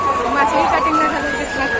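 Crowd bustle at a busy vegetable market (mandai) in Sanaud, a steady dense babble of many voices with chatter close by, continuous throughout.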